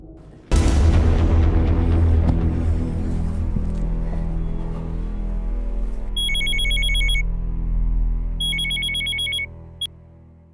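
After a loud low boom, a ringing tone fades out, then an electronic telephone ringer trills twice in short bursts, followed by a brief click.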